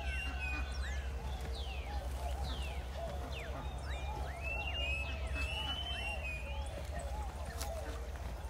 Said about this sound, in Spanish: Y escuchen al fondo los pajaritos, bien bonito se oye en la mañana acá.